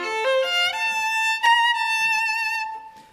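Violin playing a lyrical Brahms theme with forceful, ferocious sforzando accents: a few rising notes, then a strongly attacked sustained tone that slowly fades, close and clear, with no talking.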